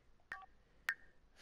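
Two short electronic phone tones from The Sims 4 chime cleanly over near silence, each a quick bright beep about half a second apart.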